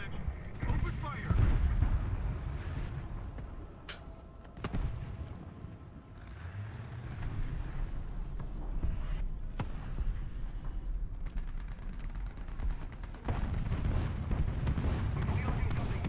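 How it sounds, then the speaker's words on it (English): Artillery strike in War Thunder, heavy booming shell impacts and rumbling explosions landing in several bursts, close and loud, with speech over parts of the barrage. "Artillery strike."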